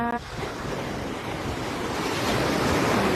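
Wind and ocean surf roll steadily onto a busy beach in the early morning, a continuous broad wash of breaking waves with wind noise on the microphone, growing slightly louder toward the end.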